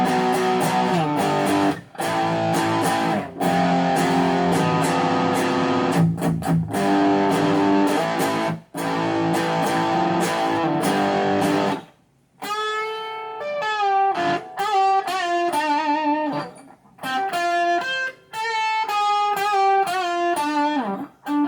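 A 1978 Gibson L7 guitar played through a Lab Series amp without an extra effects unit: thick, driven chords ring out with brief pauses, followed by cleaner single-note phrases with ringing sustain, close and loud.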